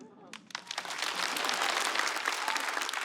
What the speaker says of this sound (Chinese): 感到快乐你就拍拍手